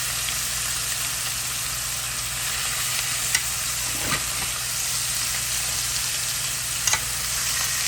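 Steaks sear on a hot griddle, giving a steady, even hiss of sizzling fat, with a few faint ticks and pops over the constant frying noise.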